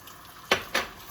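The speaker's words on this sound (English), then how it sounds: "I'm gonna pour my egg in, and this will cook very quickly." Whisked egg hits a hot pan for a breakfast burrito in two quick splashing pours, each a sharp near sizzle-slap that fades within a fraction of a second.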